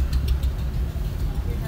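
A broken-down car with a clutch fault sits on Ajit Road in Bathinda, its engine idling high in a steady, close low drone with no change in pitch.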